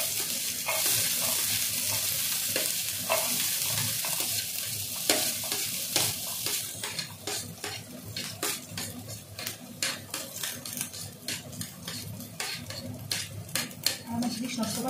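A spatula scrapes and stirs potato curry in a frying pan, a steady sizzle under repeated sharp clinks and scrapes against the metal that grow more frequent toward the end, with a few voice-like sounds mixed in.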